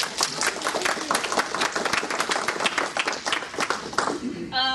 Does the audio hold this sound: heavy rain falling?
no